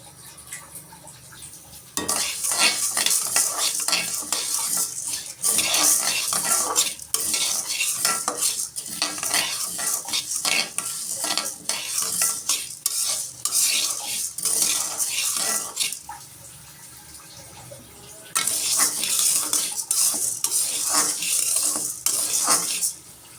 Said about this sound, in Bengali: ডালটা এখন ভেজে নেবে